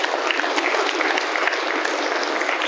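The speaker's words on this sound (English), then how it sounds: "We can applaud there if you'd like." An audience at a college alumni athletic hall of fame ceremony gives a dense, steady round of applause, uniform clapping filling the room throughout.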